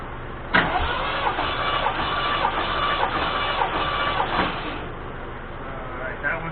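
A Ford 351M V8 cranks over on the starter during a compression check, a steady rhythmic chugging that lasts several seconds at moderate loudness, with a sharp click where cranking begins.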